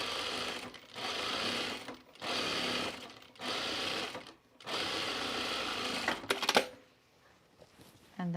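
A sewing machine top stitches overalls in several sustained bursts of rapid, even needle chatter, separated by brief pauses, ending with a few clicks and quiet.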